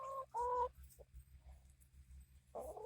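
A flock of sick chickens being nursed back to health clucks in two short, loud bursts near the start, then again toward the end, with a steady low hum beneath and quieter scattered sounds in between.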